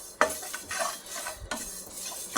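Cumin seeds roast in a pan for tomato pickle, stirred with a spoon in soft scrapes and light clinks over a faint crackle, close and quiet, no talk.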